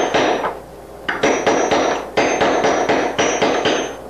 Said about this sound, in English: we're going to use the ball peen hammer